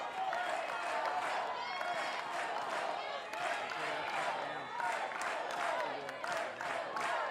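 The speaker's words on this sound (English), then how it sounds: "This crowd's getting antsy." A softball stadium crowd at an NCAA game cheers and claps in rhythmic bursts while a team trails late in the game, a steady roar of voices and scattered shouts with commentary heard over it.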